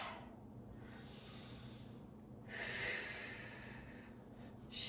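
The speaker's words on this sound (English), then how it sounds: "Let's go the other way, breathing in." Slow, audible breaths drawn in through the nose during a gentle stretching exercise, two soft swells of breath close to the microphone with no talk.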